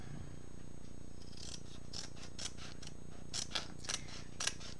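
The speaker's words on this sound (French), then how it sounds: "Je viens faire ma petite ligne et je coupe le coin." Scissors snipping the corner of a diamond painting canvas, giving a few quiet, sharp crisp clicks over a faint steady background hiss.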